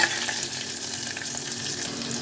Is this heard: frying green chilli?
yes